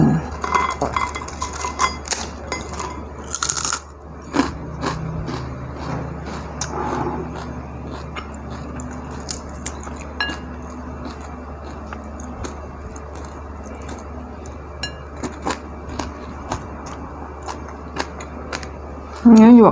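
Cutlery and dishes clink intermittently through a home Thai meal of kaeng liang, crispy fish, vegetable omelette, okra and lemongrass chili paste, with soft chewing and low voices in the background.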